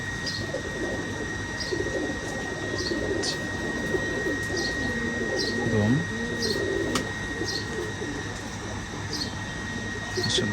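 Ferozpuri pigeons coo continuously in a low rumble, punctuated by repeated short high chirps, with a voice briefly surfacing midway over the birds.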